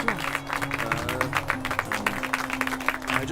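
Applause sound effect from the video game The Forgotten City: a dense, steady patter of many hands clapping throughout, layered over a sustained musical tone.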